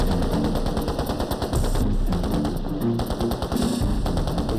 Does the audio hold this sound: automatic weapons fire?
yes